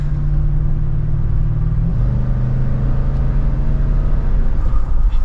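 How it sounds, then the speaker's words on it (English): Steady, smooth engine hum of a 2023 Lexus GX460 rising slightly in pitch as the SUV accelerates, mild and refined with no loud exhaust note, heard from inside. "So we'll give it another acceleration."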